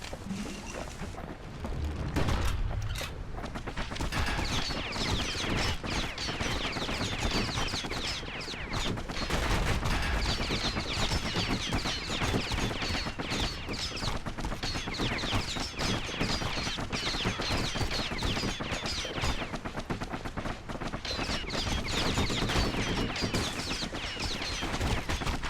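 Steady gunfire from pincushion enemies in Bastion, rapid rattling shots continuing nearly throughout over the game's dense sound, fairly quiet overall with no talk.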